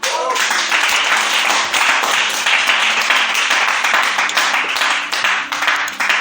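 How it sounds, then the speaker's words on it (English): A church congregation claps loudly and continuously during a sermon, dense crowd clapping that holds steady throughout with faint voices mixed in underneath. "Clap for Jesus."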